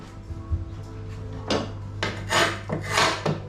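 A steady electric hum runs underneath as a small electric sander rasps against wood in several bursts, growing louder and grittier toward the end.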